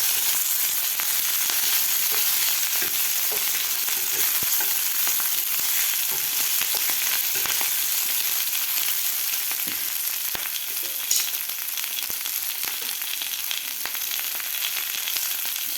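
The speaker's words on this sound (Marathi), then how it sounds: "आता यामध्ये घालायची आपल्याला कापून घेतलेली शिमला मिरची. शिमला मिरची घातल्यानंतर सुद्धा आपल्याला व्यवस्थित मिक्स करायचं आहे." Chopped capsicum being stirred into potato sabzi frying in a pan makes a steady, close sizzle with soft scraping stirs throughout, and no talking.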